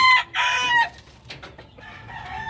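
Backyard chickens with young chicks cluck and call, loud and close, with bright repeated peeps and clucks filling the short stretch, no talking.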